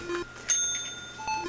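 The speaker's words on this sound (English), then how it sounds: "Hit the bell, Atari." A cat strikes a small bell, giving several bright metallic dings with ringing tones, the loudest strike partway through and another ding near the end.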